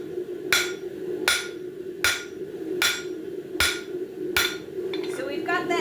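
A hammer strikes round stock on an anvil to square it off, six sharp ringing blows at a steady rhythm about one per second, with a faint voice starting near the end.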